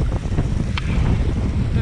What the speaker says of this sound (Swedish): nu ligger den på här också i och för sig, men blåser mer från sidan nu